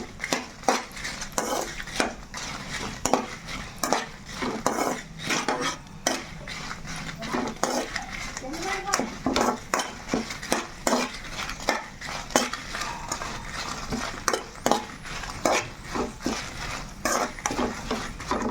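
Dried red chillies roast in a pan over a low flame while a spatula stirs and scrapes them, giving repeated rhythmic metallic scrapes and clinks with a faint dry rustle between strokes, close and clear.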